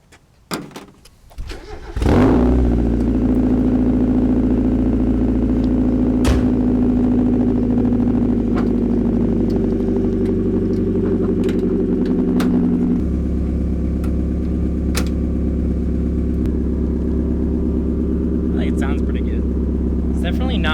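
A car with a newly finished dual exhaust cranks over and catches, then settles into a steady, fairly quiet idle that holds for about twenty seconds and drops slightly lower in pitch partway through.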